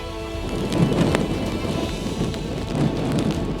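Heavy rain and strong wind during Cyclone Dana, a loud continuous roar of downpour with gusting wind and low rumbling, steady and dense throughout with no talking.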